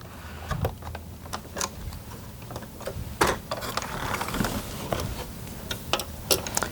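Screws being tightened on Toyota 4Runner dash brackets, likely by hand with a screwdriver, give sparse, irregular ticks and clicks with faint scraping, close and quiet.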